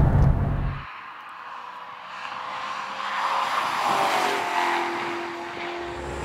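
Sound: Maserati sports car engine running

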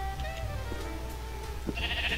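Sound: sheep bleating in a video game

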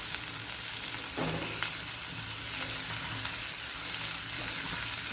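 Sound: onion, garlic and tamarind sautéing in sesame oil

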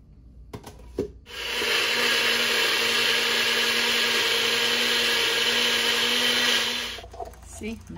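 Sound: blender blending green seasoning

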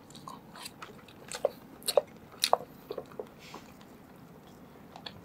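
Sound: eating takoyaki

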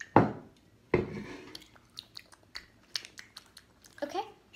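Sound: chewing a weird snack

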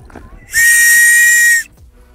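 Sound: safety whistle on a life jacket being blown

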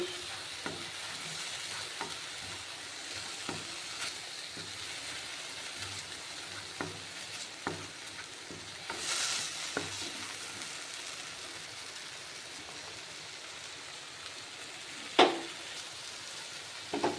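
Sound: peanut and cashew paste being sautéed in a pan

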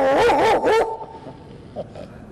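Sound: person imitating a big dog barking

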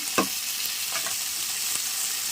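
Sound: turmeric added to frying tempering oil, sizzling

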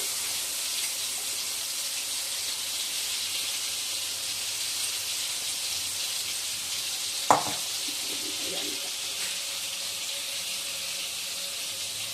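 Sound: frying spice paste for bitter gourd curry

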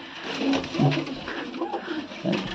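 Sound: pigeon cooing

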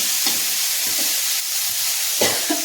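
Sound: spices sizzling in hot oil while tempering (oggarane) for bean palya

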